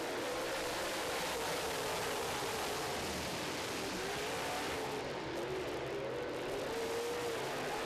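Late model race cars with Victory Circle chassis running a heat on a track, a continuous distant engine roar that rises and falls as the cars go around, heard steadily from afar with no voices.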